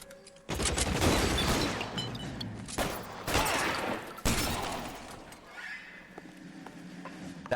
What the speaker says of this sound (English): Damn, we're being shot.